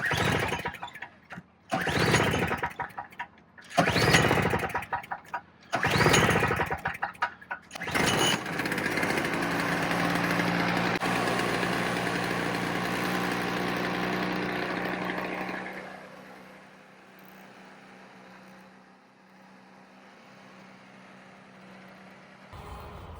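Toro Snow Commander snowblower engine pulled several times before catching, then running steadily nearby until it sputters out of fuel and falls quiet.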